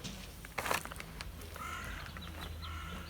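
Crows caw a few times at a distance, set against a quiet outdoor background on an allotment, with a brief rustle near the start.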